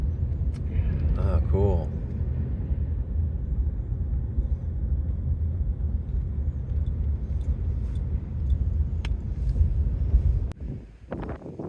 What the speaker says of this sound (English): Oh, that must be the truck that stocks the fish.